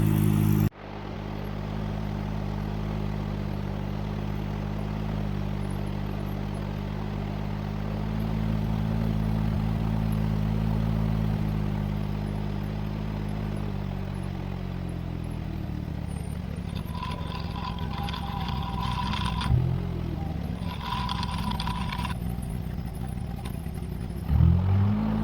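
Turner Ranger tractor with a Mini-based A-series engine idling steadily during carburettor mixture adjustment, a continuous low rumble that swells slightly, with faint metallic clatter toward the end.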